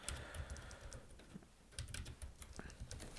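CSS code typed on a computer keyboard, a quick run of light clicking keystrokes in irregular bursts, quiet and close, with faint talk in the background.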